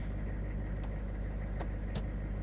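A Chevy engine runs at a steady idle after a rebuilt GM 4L80E automatic transmission is installed, a constant low drone with a few faint clicks over it.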